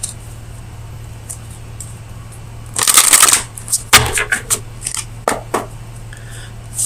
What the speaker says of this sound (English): So let me get you an oracle card from the Oracle of Visions.